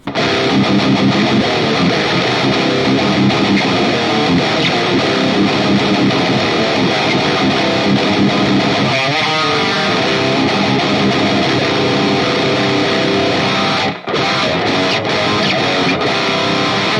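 Heavily distorted metal electric guitar runs through the Amped Burger amp-simulator plugin with drive and a touch of reverb, a dense loud sustained riff that plays continuously, with one abrupt brief cut near the end.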